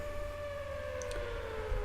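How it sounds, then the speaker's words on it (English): A steady, sustained siren tone drones in the video game We Know the Devil, continuous and moderately loud over a low hum, with a couple of brief clicks partway through. "So the sirens are going off, and now Venus and Jupiter"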